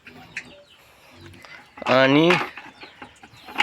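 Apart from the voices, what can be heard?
chickens clucking while being fed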